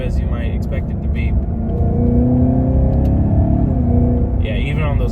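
Cadillac CTS-V engine, a loud close rumbling drone that rises and shifts in pitch through gear changes, heard from inside the car, with people talking over it at the start and end.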